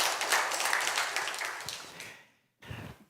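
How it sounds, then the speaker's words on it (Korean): Church congregation applauding together in a broad, dense wash of clapping that fades out midway, then a short low thump and rustle. "하나님께 영광의 박수 올려드리겠습니다"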